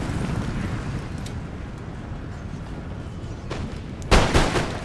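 Musket volleys in the battle game Empire Total War, a continuous rumbling crackle of distant gunfire with a louder, sharper volley bursting near the end.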